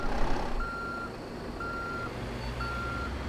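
In the Euro Truck Simulator 2 game, a truck backs up with three evenly spaced reversing beeps over a low, steady engine rumble.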